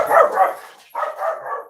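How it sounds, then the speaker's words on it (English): A dog inside barks at a cat outdoors: two close, loud bursts of barking, each made of a couple of quick yaps, separated by a short pause. "my dog heard a pussycat outside."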